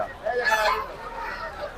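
Poultry at a market with chickens, ducks and turkeys, a brief honking squawk rising out of a noisy background, followed by fainter bird calls and crowd murmur.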